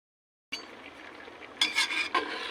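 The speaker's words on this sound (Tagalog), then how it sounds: "dinurog-durog ko muna gamit itong sandok" A ladle presses and scrapes boiled mung beans in a pot for a Filipino ginisang monggo, starting after a short silence with soft mushy stirring, then louder scraping strokes near the end.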